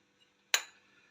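A spoon clinks once against a plate while apricot jam is being served, a single bright, quiet chink with a short ringing decay in an otherwise still room.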